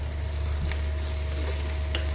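Green chillies frying in a pan with ginger, garlic and onion give a steady, close sizzle with faint stirring scrapes, alone and without voices.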